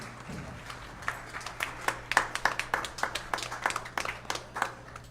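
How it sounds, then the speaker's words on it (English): Sparse audience clapping at a live jazz concert at The Factory venue, a handful of distinct, separate hand claps at modest volume rather than a full ovation, over a low steady hum. "So a round of applause for the factory"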